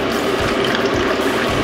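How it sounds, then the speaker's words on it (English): One cup of hot water is poured gently into a slow cooker over ingredients and a stock cube, making a continuous close splashing, trickling wash with no talk. "Now we're going to just gently pour it over so some of the stuff goes to the bottom."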